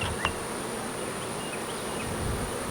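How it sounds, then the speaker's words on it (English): Dense, continuous buzzing of many honeybees in a healthy, active hive, close and loud, with a brief knock near the start and no talk. "They've got lots and lots of bees in here"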